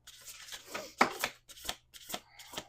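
Oracle cards being shuffled by hand in a series of quick, crisp riffling bursts with short pauses between, close and fairly quiet.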